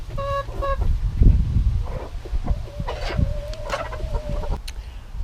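Hens cluck and squawk in short bursts, close by, with a steady low hum in the background and a longer drawn-out call near the end.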